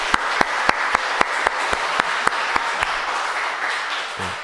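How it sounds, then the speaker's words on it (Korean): A church congregation claps in a steady, rhythmic beat that merges into broad applause, then fades out toward the end. "우리 박수 한번 합시다."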